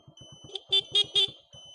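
Three short, shrill motorcycle horn beeps in quick succession over a low puttering engine idle, close by.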